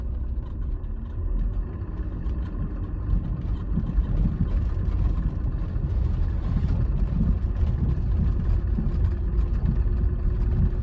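Car accelerating hard on a race circuit, a continuous loud engine roar with rhythmic rises and dips, heard from close inside without talk.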